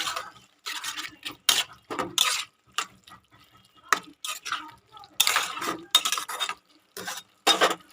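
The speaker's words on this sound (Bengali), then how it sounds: "এবারে আমি প্রথমে দেব ধনে পাতা ধনে পাতাটা দিয়ে ভালো করে নেড়ে চেড়ে নেব" Coriander leaves stirred into a kachali fish curry, heard as sharp, close clinks and scrapes of a utensil against the pan in irregular bursts with quiet gaps between.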